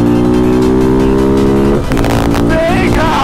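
A KTM 790 Duke motorcycle engine, newly derestricted, holds a loud close idle-to-mid rumble, then revs sharply upward in a rising, rasping surge before dropping back.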